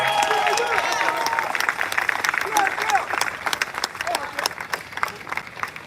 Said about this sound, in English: Give yourselves a round of applause, ladies and gentlemen.